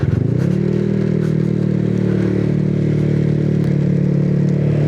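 A Honda Click 125 scooter fitted with a Racing Monkey torque drive runs steadily while riding, its engine note rising briefly at the start and then holding a loud, even drone close to the mic, with some rattly clatter.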